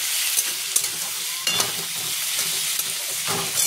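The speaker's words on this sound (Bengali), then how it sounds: "এবার আলুটা ভাজা ভাজা হয়েছে" Potatoes fry in a pan to a continuous close sizzle, broken by a few scraping stirs of a spatula against the pan at uneven intervals.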